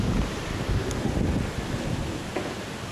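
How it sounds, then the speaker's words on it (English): Strong wind from Hurricane Sandy roars and buffets the microphone in steady gusts, a continuous low rumble with rustling, and no one speaking. "But yeah, it's extremely windy."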